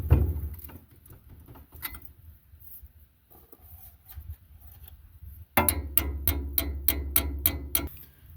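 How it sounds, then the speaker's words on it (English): Metal hammer blows on a 4 ft rotary tiller tractor attachment, first a few scattered knocks, then after a quiet stretch a loud run of about eight rapid, evenly spaced strikes close by. "Hammer time."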